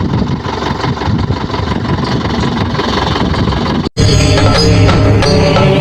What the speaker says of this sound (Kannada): ಗಾಡಿ ಸೌಂಡ್ ಕೇಳ್ರಿ ಸೌಂಡ್